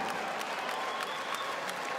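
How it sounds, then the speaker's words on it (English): Crowd applause in an NBL basketball arena during a Cairns Taipans versus Sydney Kings game, a steady even wash of clapping held at moderate level over the whole stretch, with no talk over it. "Round of applause."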